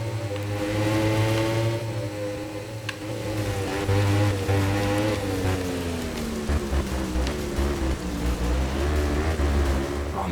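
Heavy rain during practice for a motorcycle race in a video game, a constant hiss under the droning, shifting pitch of a Honda race bike engine, with no talk.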